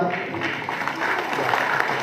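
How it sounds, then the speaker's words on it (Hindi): Audience applause at a student prize distribution ceremony, a short burst of continuous clapping mixed with crowd noise and some voices. "उनके लिए भी जोरदार तालियां"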